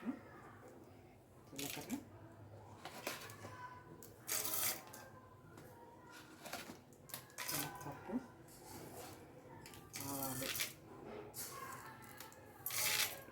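Tempering spices sputtering in hot oil in a kadai for a fish curry: quiet, scattered crackles and pops in uneven bursts, with a person talking over them.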